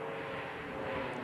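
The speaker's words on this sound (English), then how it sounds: "there's a modern aircraft" A modern aircraft flies overhead above Peak District moorland near Higher Shelf Stones and Bleaklow, a steady engine drone that stays fairly constant and alone throughout the short stretch.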